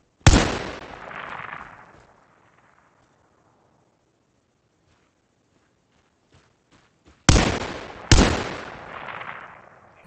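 Heavy gunfire in the tactical shooter Ground Branch, set at a compound raid: one loud, sharp shot with a long ringing tail, then quiet with faint clicks, then two more close, powerful shots in quick succession.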